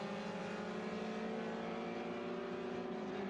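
Vintage race cars at the SVRA Collier Cup at Watkins Glen give off a steady, distant engine drone that holds evenly throughout without any clear passes or shifts.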